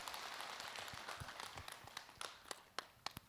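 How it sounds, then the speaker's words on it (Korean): An audience at a Buddhist Dharma talk applauds to welcome a questioner. A steady, fairly quiet wash of clapping comes first, then it breaks into a few distinct, louder individual claps near the end. "박수로 맞으세요"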